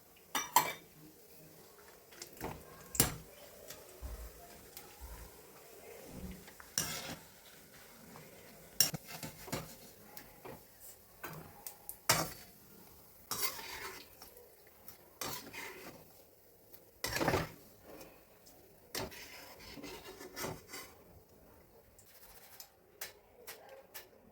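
Dry coconut being added and stirred in a pan for a crispy snack mixture, heard as scattered scraping and clinking of a spoon against the metal pan, irregular and sparse, with faint background bird sounds.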